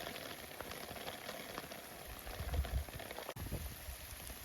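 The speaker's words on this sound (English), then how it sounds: "the rain started to get more intense" Heavy rain falls on a homestead, a dense continuous hiss of drops with a low rumble, growing slightly louder partway through, with no voices.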